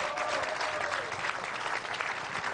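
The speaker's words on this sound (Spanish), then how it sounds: "Mohamed, con un aplauso al pueblo saharaui." Audience applause for the Sahrawi people at a political gathering, a steady wash of clapping from a crowd, fairly distant and even throughout.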